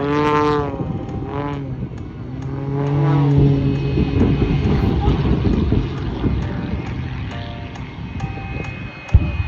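Michael Wiskus's airplane passes very slowly with its nose pulled up at an air race event, a broad engine and wind rush swelling then fading, with someone talking over the start.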